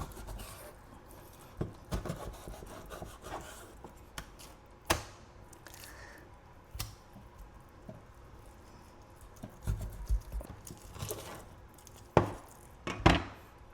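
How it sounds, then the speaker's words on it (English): A small knife portions and skins a hybrid striped bass fillet on a cutting board, with scattered light taps and scraping cuts, sparse and close, growing sharper near the end. "let's go ahead and get this other piece of the fish portioned off and get it skinned"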